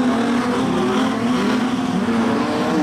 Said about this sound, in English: with Stuart Fawcett, the Lismore car, now trying to make his position a better one than position number 5